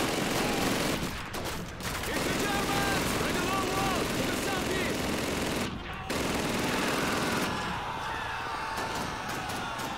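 Dense machine gun fire in the World War II shooter Call of Duty 2, loud and continuous for most of the stretch with brief gaps, a voice talking over it at times.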